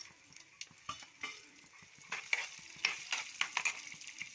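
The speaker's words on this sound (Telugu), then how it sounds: "ముందైతే తాలింపులు వేసుకోండి." Quiet frying crackle of spices in oil, with a spoon scraping and clinking against the pan now and then, growing busier toward the end.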